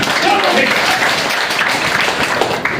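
Audience clapping loudly, a dense, continuous patter of many hands at steady volume for a few seconds, with no voices heard over it.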